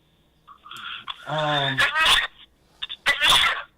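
A drawn-out vocal sound builds into a loud, explosive sneeze, followed by another sharp burst, close to the listener.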